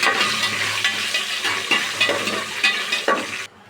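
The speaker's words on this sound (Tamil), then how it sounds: "பட்டை நல்லா பொரியட்டும்." Cinnamon bark crackles and sizzles in hot oil at the start of a chicken biryani, a loud continuous frying hiss with occasional stirring scrapes, cutting off abruptly at the end.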